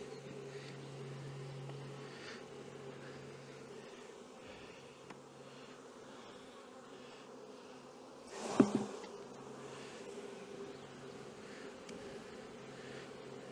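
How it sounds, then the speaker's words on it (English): Honey bees hum in a steady, dense drone while being shaken into a box during queen rearing, with one brief louder knock and a swell of buzzing partway through. "why I'm shaking all the bees into this box"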